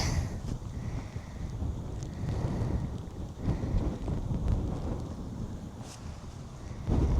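Wind gusting in waves on top of Kinder Scout, rumbling and buffeting against the microphone with rising and falling surges, no voices.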